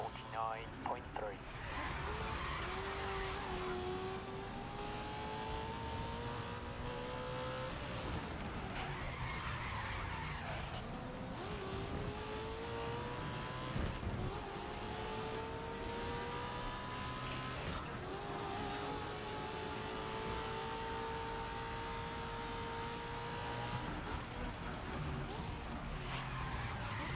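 Race car engines howl through rising and falling gear shifts in the racing game GRID Legends, with tire squeal and skids across a long continuous stretch, under steady game audio.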